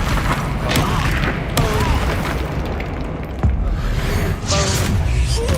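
Confringo blasting spell going off in Hogwarts Legacy, a deep booming explosion with sharp pops and whooshes amid continuous rumbling game combat.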